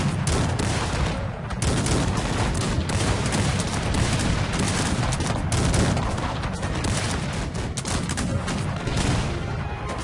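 Dense, continuous battle din from a Cossacks 3 real-time strategy game, cannon fire and massed musket volleys crackling and booming without pause, loud and steady throughout with no talk.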